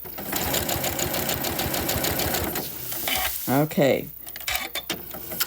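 A Janome CM17 sewing machine stitching steadily at a fast, even pace, then stopping. A short spoken word and brief voice sounds follow near the end.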